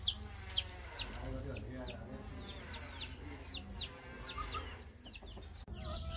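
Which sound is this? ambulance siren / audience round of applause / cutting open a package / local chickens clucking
local chickens clucking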